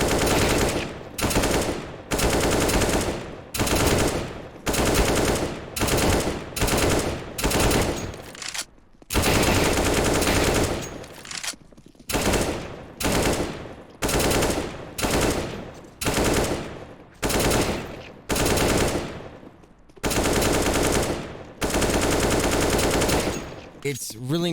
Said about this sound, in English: look at me shoot at this guy.